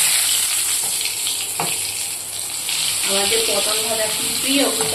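Pointed gourd (potol) frying in a pan gives a continuous bright sizzle and hiss, with a few soft kitchen clinks and faint voices in the later part.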